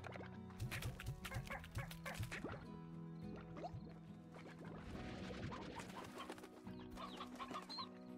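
Chickens cluck in the video game Slime Rancher, with repeated short, bright bird calls over a busy, continuous bed of watery game sounds and a steady low hum.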